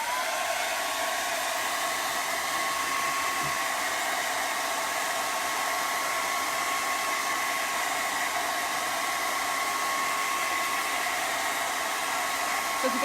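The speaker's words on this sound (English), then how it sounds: "Let me grab my dryer. We'll put a little heat on this project." A hair dryer blows heat onto a craft heat-transfer project, a steady loud broadband whoosh holding unchanged for the whole stretch with no voices.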